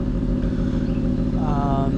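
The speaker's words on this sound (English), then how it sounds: "The exhaust on that Aston Martin just sounds so nice." An Aston Martin's exhaust drones as the car passes nearby, a steady, loud, deep engine rumble with a rising tone near the end, partly blended with background road noise.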